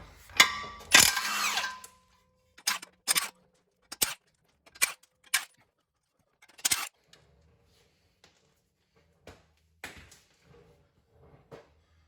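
A power tool whirs briefly while a Mustang transmission flex plate is removed, followed by a scattered series of sharp metallic clicks and clanks with quiet gaps between them.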